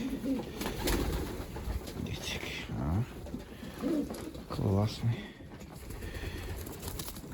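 Breeding pigeons coo in a loft, several soft rolling coos repeating close by, with someone speaking briefly over them.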